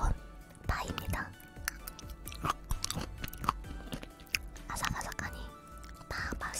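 Raw green onion crunched and chewed close to the mic, eaten with rice and meat, giving a steady series of crisp, wet bites and chews. Brief quiet speech sits between the bites.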